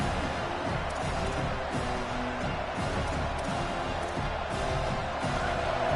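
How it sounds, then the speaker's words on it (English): Football stadium crowd roaring steadily behind the Buffalo Bills defense during a red-zone stand, a dense continuous wall of cheering and noise with no clear breaks. "The crowd getting behind this defense as they try to get a stop in the red zone."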